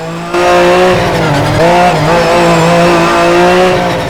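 A Mazda MX-5 drifts in the racing game Project Cars: a loud engine drone holds near-constant revs, with tyre squeal and pitch dips where the car slides. It plays alone, with no voices.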